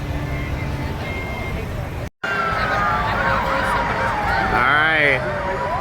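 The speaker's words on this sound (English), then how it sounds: "All of those fire trucks, ambulances, police cars are now driving down Stagecoach Trail to the Stagecoach Trail Bridge" Fire trucks, ambulances and police cars roll past on Stagecoach Trail in Afton, Minnesota, during a 9/11 tribute run, sirens wailing and swooping loudly over steady traffic rumble, with voices murmuring underneath.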